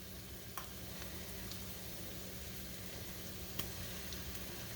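Minced garlic and onion frying in a pan as they are stirred for a broccoli cheddar cheese veggie soup, a soft steady sizzle with a couple of faint utensil scrapes, quiet and unbroken.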